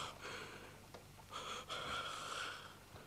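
A patient breathes on a doctor's request during an examination: a few soft, close breaths with audible gasping intakes and snort-like exhales, quiet and unaccompanied by talk.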